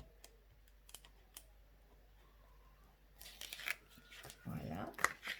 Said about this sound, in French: On enlève la petite pellicule de dessus.